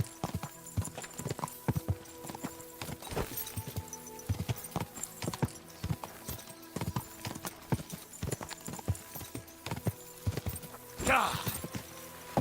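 Horse hooves in Kingdom Come Deliverance II clip-clop in a steady walking rhythm for the whole stretch while riding, close and clear, with a brief rustling burst near the end.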